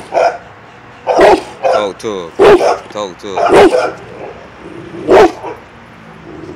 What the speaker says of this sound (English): My little dog